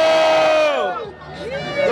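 A battle rap crowd at the Batalha do Tanque in São Gonçalo cheers and shouts in a loud burst of mixed voices that dips briefly, then swells again.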